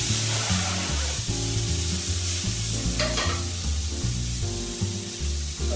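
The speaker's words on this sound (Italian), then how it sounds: "un giro di olio in padella, quando è bello caldo aggiungiamo i nostri asparagi e i nostri carciofi." Asparagus and artichokes sauté in hot oil in a pan, a steady loud sizzle and hiss running throughout with repeated stirring and scraping knocks, no voices.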